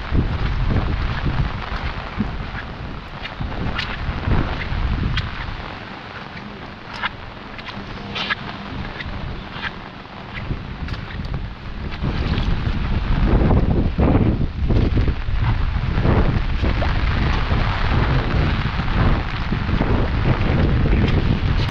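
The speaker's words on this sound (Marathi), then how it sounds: "वारा खूप आहे" Strong wind buffets the microphone across rice fields during planting, a loud continuous roar that rumbles and surges in gusts throughout.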